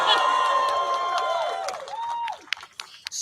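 A crowd at a New Hampshire political rally cheers and claps, with whoops and raised voices mixed into a continuous roar that thins out near the end.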